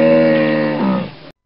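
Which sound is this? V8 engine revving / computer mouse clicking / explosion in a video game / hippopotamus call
hippopotamus call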